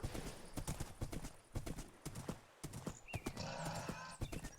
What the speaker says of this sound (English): Go away, horses that need to be fed.